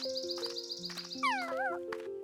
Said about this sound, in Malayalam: ഒരിക്കൽ വിശന്ന ഒരു നായ ഭക്ഷണം തേടുകയായിരുന്നു.